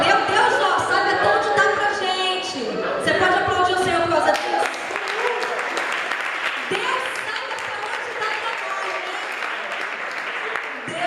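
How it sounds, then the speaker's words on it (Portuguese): A church congregation bursts into loud, sustained applause mixed with voices and cheering, the clapping carrying on as a dense wash for about ten seconds. "Você pode aplaudir o Senhor por causa disso?"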